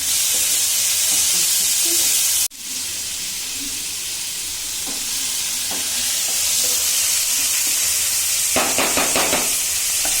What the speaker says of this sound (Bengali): এবার আমি লঙ্কাগুলি দিচ্ছি, লঙ্কা বাঁধাকপি সব